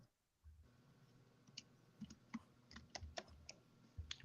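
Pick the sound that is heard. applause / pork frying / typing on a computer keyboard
typing on a computer keyboard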